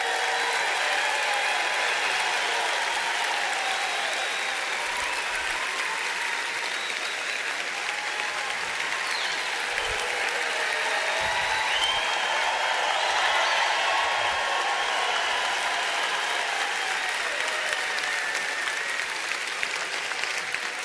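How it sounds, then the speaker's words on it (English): An audience applauds at an event honoring a laboratory engineer: dense, steady clapping from many hands sustained throughout, fairly loud and close, with no speech over it. "Give him a nice round of applause."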